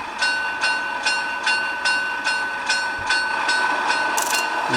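A German 0 gauge model diesel locomotive runs steadily on a layout, its motor hum overlaid with regular clicking rail joints roughly every half second, close and continuous, with a brief higher hiss near the end.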